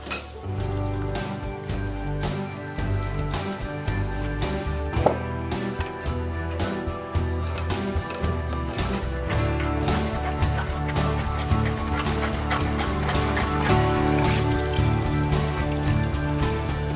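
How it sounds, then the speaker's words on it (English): Freshly squeezed orange juice pours through a fine mesh strainer in a home kitchen, making a continuous close trickling and splashing with scattered small taps and clinks against the mesh. "I'm going to need the finest mesh strainer that I have."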